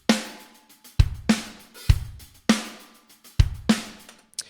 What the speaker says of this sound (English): these drums sound like this by themselves.